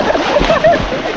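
Water splashes and sloshes close by as people begin bathing in calm, grassy water, a continuous churning wash with brief louder surges, mixed with voices.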